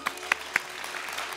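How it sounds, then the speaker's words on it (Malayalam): A handful of sharp, scattered handclaps from a TV comedy show's studio audience, a few quick claps over a steady room hiss, short and fairly faint. "അപ്പോൾ ഇതേപോലെ തന്നെ ഓഡിയൻസ് കൈയടിച്ചു."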